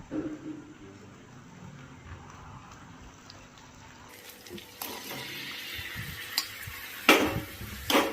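Paneer pieces stirred in a pan for paneer posto, giving intermittent scraping and clattering that grows louder and busier toward the end, close by with no talking.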